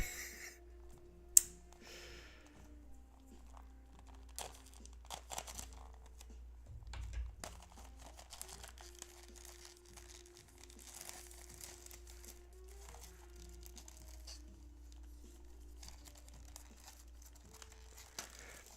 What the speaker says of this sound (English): You get a unboxing, unwrap it, all in one video.